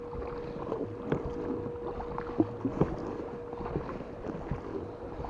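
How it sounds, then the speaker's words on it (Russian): The outboard motor of a freshly inflated boat being tested in Ryazan Oblast, a steady low droning hum with wind noise and small knocks. "в каком состоянии у нас движок."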